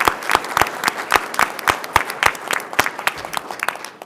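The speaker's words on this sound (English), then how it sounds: "How about a round of applause for them?" Scattered applause from a modest audience at a university board of trustees meeting, individual claps distinct and fairly close, fading slightly toward the end with no talking.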